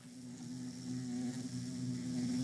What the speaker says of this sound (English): Is that bee over there killing itself in a cactus?